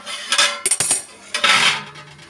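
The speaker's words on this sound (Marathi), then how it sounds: "झाकण काढून आपण बघूयात" Metal lid lifted off a cooking pot in a home kitchen, a few close, bright clanks and scrapes of metal on metal, loud and alone.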